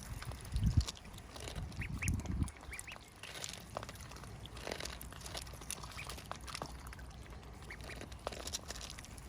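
Pet ducks quacking at home, a couple of nearby quacking bursts early on, then fainter scattered calls over steady low background noise, with no talk.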